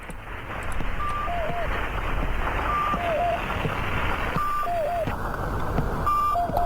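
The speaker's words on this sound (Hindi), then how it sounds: "टेलीफोन बार बार ऑन हो रहा है यार।" A telephone gives repeated electronic beeps as it keeps switching itself on, short tonal bleeps returning in a steady pattern roughly every second and a half over constant background noise.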